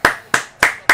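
Four crisp hand claps at a steady, slow rhythm, close and loud, with no talking.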